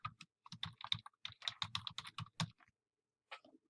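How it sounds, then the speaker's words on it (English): Typing on a computer keyboard, a quick irregular run of close, crisp key clicks for about two and a half seconds, a pause, then a few final taps. "So we'll type that."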